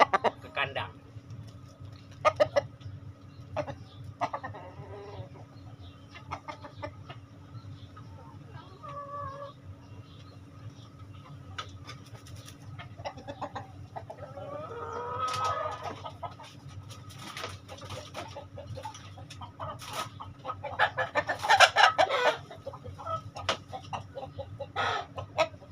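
A young rooster of four to five months clucks and gives short calls inside a coop. The calls are faint and scattered over a low, steady background hum, with someone talking quietly at times.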